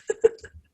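A sudden sneeze burst, brief and close, with a sharp peak followed by a short trailing exhale, in a casual indoor conversation setting.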